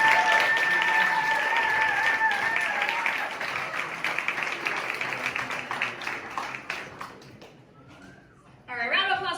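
Audience applause at the Bay Area Timmy Awards ceremony, with full clapping that thins out into scattered claps, then a voice speaks at the end.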